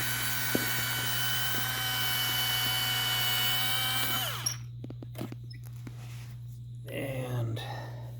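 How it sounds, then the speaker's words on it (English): A 5/64 drill bit boring a hole in an Arrma Big Rock 3S RC truck part, a steady whining drill run that stops partway, followed by faint handling clicks and rustling. "So this is a 5/64 drill bit, and we're going to just drill in here."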